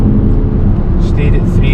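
A Range Rover L405 engine holds a loud, steady drone at about 3,500 RPM while driving at speed, close and continuous, with a voice heard briefly over it.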